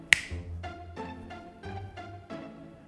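A single sharp finger snap near the start, close and crisp, followed by quieter tonal sounds with a steady low hum in a car project garage setting.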